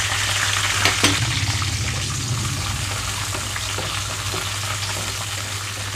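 Halved red chillies fry in hot oil in a pan, giving a steady, close crackling sizzle that holds fairly loud and even throughout, with a couple of brief clinks near the start.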